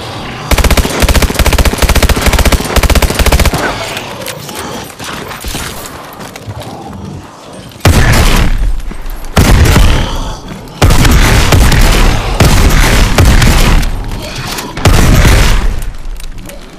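Call of Duty Advanced Warfare Exo Zombies mode erupts in loud automatic gunfire and booming explosions, coming in several dense bursts separated by brief lulls.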